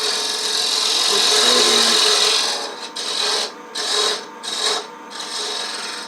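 A lathe tool cuts a dovetail into a spinning wooden top, giving a steady, loud scraping rasp that breaks into several short bursts toward the end as the tool comes on and off the wood.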